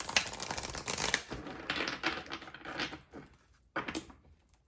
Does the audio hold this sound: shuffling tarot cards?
yes